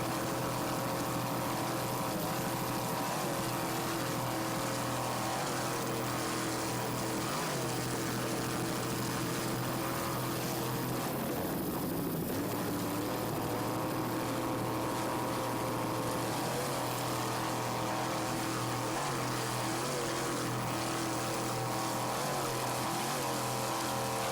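390-horsepower racing powerboat engines drone loudly and continuously off Islamorada, a throbbing motor roar that rises and dips slightly as the boats maneuver through bumpy water, with no voices.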